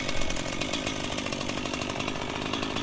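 A chainsaw cuts steadily through the thick, heavy hardwood trunk of a thorny locust tree, a loud, continuous close-up engine roar with no break for the whole stretch.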